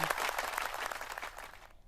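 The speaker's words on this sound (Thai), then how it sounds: "ปรบมือให้กับตัวเองค่ะ เก่งมาก ๆ เลย" Children clapping for themselves in a steady burst of applause that fades toward the end and stops abruptly.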